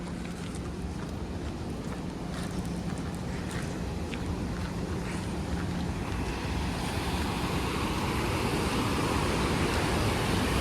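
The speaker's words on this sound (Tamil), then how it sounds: "தண்ணி ஃபுல்லாக ஓப்பன் பண்ணிட்டனால தண்ணி ஃபுல்லாக போயிட்டுருக்கு" Water rushes from an opened barrage on the Kaveri river near Mettur, a loud continuous roar of churning flow with wind buffeting the microphone throughout.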